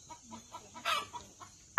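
A hen clucking close by, a quick series of short soft clucks ending in a louder squawk.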